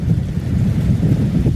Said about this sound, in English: Sorry if there's wind noise, but there's a lot of wind, as you can see.